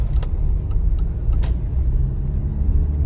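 A car engine runs at low revs while driving, a steady low rumble heard from inside the cabin, with a few faint clicks and rattles and no talking.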